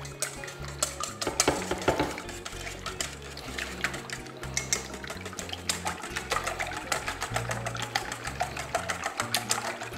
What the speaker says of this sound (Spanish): lo comenzamos a batir